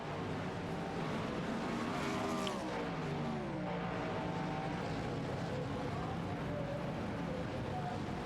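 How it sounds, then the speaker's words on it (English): An endurance race car pulls out of the long pit lane at Spa, its engine droning steadily at a distance with a pitch sweep as it accelerates, under loud broadcast commentary. "So Eckel coming out of pit lane here."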